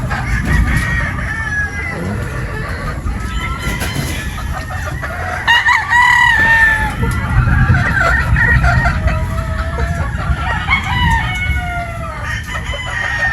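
Boston Roundhead pullets cluck and crow in a busy, loud chorus that carries on throughout, set over a low rumbling background with a little faint talk.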